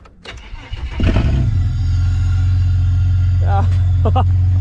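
A supercharged turbo Ford AU Ecotec engine cranks with a few stumbling turns, catches and settles into a loud, steady idle rumble up close, with brief voices over it near the end.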